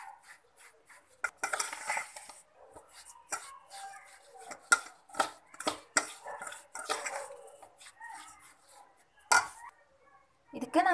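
A spoon works rava idli batter with dill leaves and coriander in a bowl, producing irregular scraping and clinking strokes that come in bursts with short pauses, close and moderately loud, while someone speaks between the strokes.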